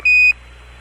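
A single sharp electronic tone from the Apollo 12 spacecraft alarm, loud and clear, lasting about a quarter second before cutting off into quiet cabin hiss.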